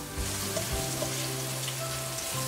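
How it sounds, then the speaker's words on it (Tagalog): Ginger and other aromatics sauté in a hot pan for a pork and broccoli ginisang stir-fry, giving a steady close sizzle with light stirring and faint ticks, with no voices. "Haluin lang natin hanggang sa maging translucent na yung ating mga ricado."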